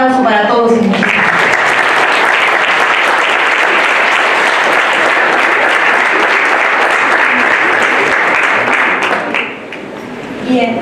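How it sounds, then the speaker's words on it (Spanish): Sustained audience applause fills a ceremony hall at a university law faculty book presentation, loud and dense for about eight seconds before tapering off near the end. "Un aplauso para todos y muchas gracias"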